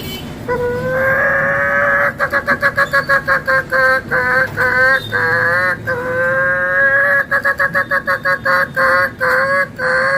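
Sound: man imitating a hen clucking

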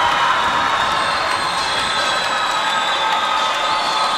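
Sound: boxing crowd applause and cheering

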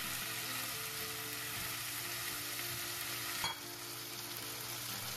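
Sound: rice wine sizzling in hot pan with beef

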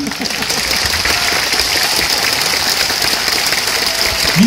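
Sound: stormy applause from audience

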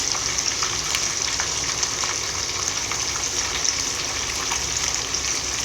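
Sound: snakehead fish frying crisp in fish sauce

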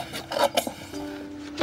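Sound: handsaw sawing wood

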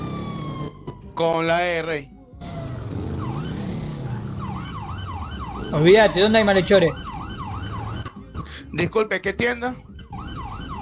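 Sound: police car siren in a video game

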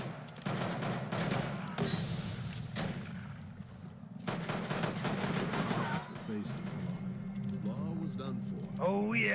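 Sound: gunfire in a western video game

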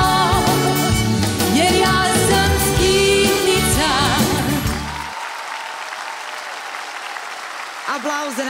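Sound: audience applause for contestants

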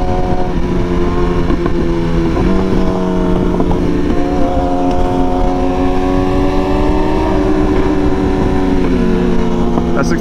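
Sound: 636 sport motorcycle with M4 exhaust riding on highway

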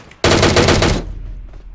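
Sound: machine gun fire in PUBG video game, Erangel map

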